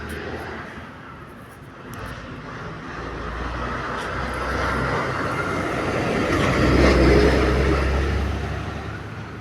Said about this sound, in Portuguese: Eu vou pausar aqui que o caminhão de lixo vai passar.